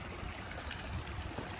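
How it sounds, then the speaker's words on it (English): A garden creek running in spring, a steady close babble and trickle of flowing water that continues evenly with no talking. "Oh, our creek's running."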